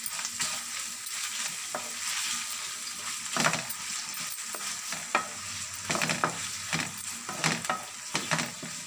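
Ginger garlic paste frying for prawn biryani, a steady close sizzle broken by repeated scraping stirs of a spoon against the pan, with no voices.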